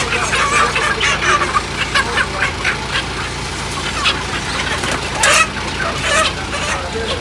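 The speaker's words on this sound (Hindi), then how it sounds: "इधर मुर्गियां भी आ गई फ्रेश फ्रेश" Chickens at a busy market, a dense, loud chorus of clucking and squawking fowl close by over constant crowd noise, with no single clear call standing out.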